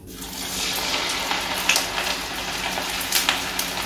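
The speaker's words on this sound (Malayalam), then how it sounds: "അപ്പൊ നമുക്ക് ഇനി ഫ്രൈ ചെയ്യാം." Upuma pieces sizzle in hot oil, a steady bright hiss close by with small crackling pops and no talk.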